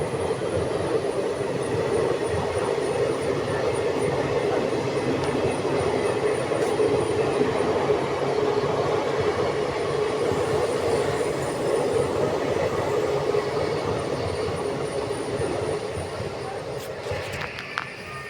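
A train rumbles past close by a temple beside the railway, with a continuous heavy roar and clattering wheels, steady throughout before easing slightly at the end.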